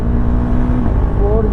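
A motorcycle accelerates in third gear, heard from the rider's helmet with the visor closed, its engine note rising steadily under wind rush.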